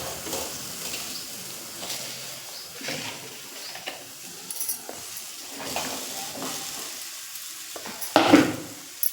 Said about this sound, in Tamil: வெறும் வாணலை மட்டும் வச்சு நல்லா வதக்கிக்கிட்டேன்.